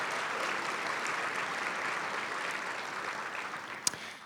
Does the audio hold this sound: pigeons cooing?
no